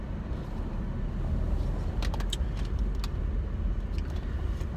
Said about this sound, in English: Traffic is horrible today.